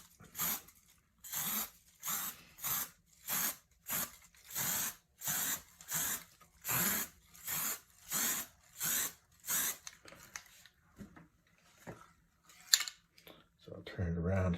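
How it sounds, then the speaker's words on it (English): Primed classic shofar holder being sanded to knock off gloppy primer spits, about a dozen regular close back-and-forth rasping strokes in a steady rhythm, then a pause, a few scattered scrapes and a sharp knock at the end. "I'll sand those off."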